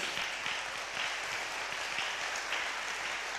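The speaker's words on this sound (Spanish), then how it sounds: "Entonces podemos celebrarlos con un fuerte aplauso." Steady applause from a church congregation, a dense continuous patter of clapping that holds at an even level throughout with no voices standing out.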